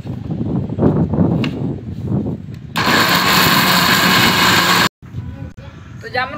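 An electric mixer grinder whirs loudly for about two seconds as it blends jamun pulp with sugar and water, then cuts off abruptly. A person talks before and after the burst.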